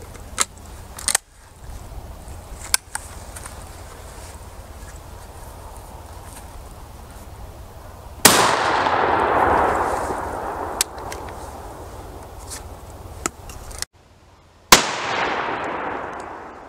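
A shotgun with a modified choke fires Royal Buck 9-pellet buckshot, producing a few sharp outdoor blasts spaced several seconds apart, one loud report followed by a long decaying rumble and echo.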